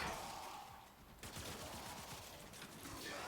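Rapid bursts of automatic gunfire from the Zakti Prime in Warframe, a dense, steady stream of close, loud shots with combat effects layered underneath.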